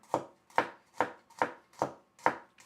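Knife chopping food on a cutting board, six evenly spaced sharp chops at a slow deliberate pace, close and clear with quiet between strokes.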